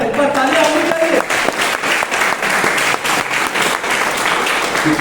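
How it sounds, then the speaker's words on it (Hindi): Loud, sustained applause from an audience at a Hindi poetry recitation, dense clapping filling the whole stretch, with a voice speaking briefly at the start. "एक बार तालियां होनी चाहिए।"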